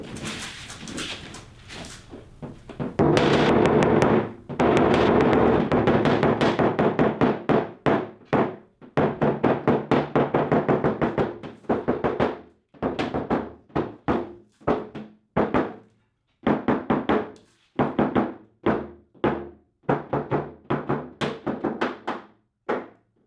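A tap down tool strikes a dented car body panel during paintless dent repair, a long series of sharp, close metallic taps in quick rhythmic bursts with brief pauses, loud and without talk.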